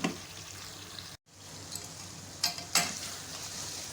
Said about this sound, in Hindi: मसालों को भूनें अच्छी तरह से।